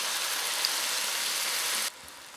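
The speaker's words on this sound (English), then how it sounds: "I like to use oil while I'm cooking my steaks" Steak frying in oil in a hot pan, giving a steady, dense sizzle close up that cuts off abruptly near the end.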